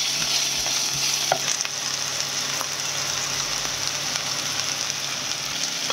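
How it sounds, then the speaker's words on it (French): Garlic and onions frying in a drizzle of oil in a small pan over medium heat, giving a steady, close, crackling sizzle that runs throughout with a few light spatula taps. "On prend une petite poêle, on chauffe à feu moyen, un filet d'huile, on met l'ail, les oignons,"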